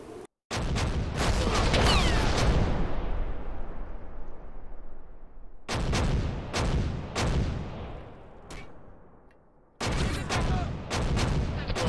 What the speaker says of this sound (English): And there's the artillery hitting.